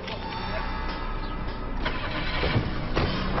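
A car engine cranks and catches, then settles into a running rumble as the vehicle pulls away, loud and close, with some faint background sound layered over it.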